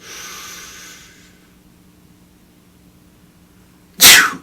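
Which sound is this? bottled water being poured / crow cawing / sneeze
sneeze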